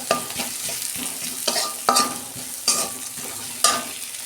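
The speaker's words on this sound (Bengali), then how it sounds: "পেঁয়াজটা বন্ধুরা আমি 2 মিনিট ভেজে নেব" Onions frying in a pan, a steady sizzle broken by repeated scraping stirs of a spatula, close and fairly loud, with no talking.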